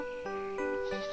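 Goats bleat on a meadow in an animated children's story, a few sustained, wavering cries that follow one after another, clear and close, with no speech.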